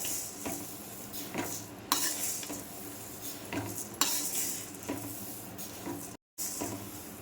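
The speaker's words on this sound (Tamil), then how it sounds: "இதை ஒரு 5 நிமிஷம் நல்லா வறுத்துக்கலாம்." A kilogram of coriander seeds dry-roasts in a large kadai, a spoon scraping and stirring them in steady rhythmic strokes with a faint dry sizzle; the stirring sounds close and clear, with no talking.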